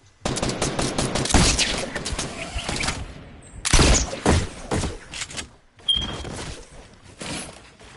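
Video game gunfire rattles out in loud, rapid bursts of automatic shots, three main volleys separated by brief pauses.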